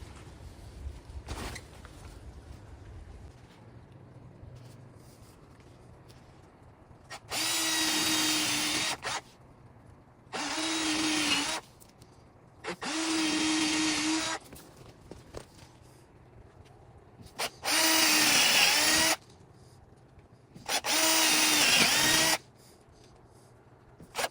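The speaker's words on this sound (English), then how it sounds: "Drill holes." A power drill whirs in five separate bursts of a few seconds each, drilling holes in a front door for a handle and latch, loud and close, with quiet pauses and faint handling noise between them.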